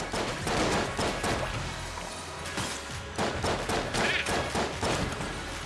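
Gunfire from the video game Enter the Gungeon: dense, rapid bursts of shots and impacts over a busy, continuous game soundscape, loud throughout with no talking.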